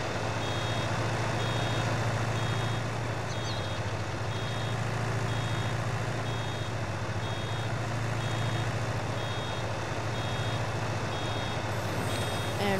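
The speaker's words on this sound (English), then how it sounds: "Then it would start beeping at you when it gets close to being full." Repeated electronic warning beeps from a baler nearing full capacity in Farming Simulator 19, a steady evenly spaced chirp over a constant low machinery drone and engine hum throughout.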